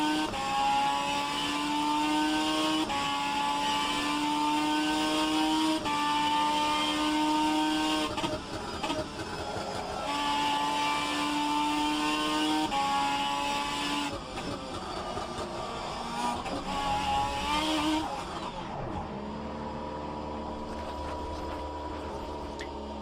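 A race car laps in the rFactor 2 simulator, its engine a sustained harmonic drone that rises and falls through repeated gear changes and revs, loud and continuous, with a drop in pitch near the end.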